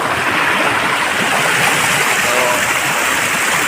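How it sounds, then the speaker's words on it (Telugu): Heavy rainwater rushes through a Telangana forest, a loud, continuous roar of flowing water up close, unbroken throughout, with no speech. "చూసారా ఇక్కడ వర్షపు నీళ్ళు, బీభత్సమైన వర్షము ఫ్రెండ్స్ కొట్టుకుపోతున్నాను"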